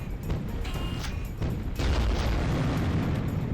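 Explosions boom in the Unreal beta video game, a dense rumbling roar with several quick bursts layered over continuous low noise.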